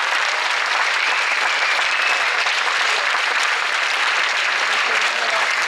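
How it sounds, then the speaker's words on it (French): A crowd at the finish of the Route du Rhum sailing race in Guadeloupe applauds steadily, a dense, loud, continuous clapping with no breaks. "toute l'équipe méritent vos applaudissements"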